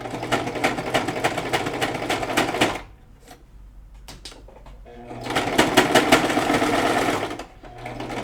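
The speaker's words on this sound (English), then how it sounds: "My machine was working real hard on that pleat." A sewing machine stitches a pleat, running loud and close with a fast steady chatter, pausing for a couple of seconds with a few soft clicks, then straining hard through a second long run before stopping.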